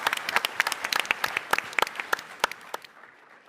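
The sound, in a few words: audience applause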